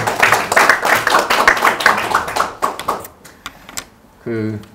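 An audience at a political forum lecture gives a short round of clapping, brisk and fairly close, thinning out into scattered claps before a voice resumes.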